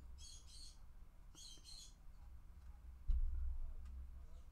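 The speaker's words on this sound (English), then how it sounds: "My birds are freaking out," Pet birds chirp in two quick bursts of high, bright calls near the start, then fall quiet against a steady low background hum and a brief thump.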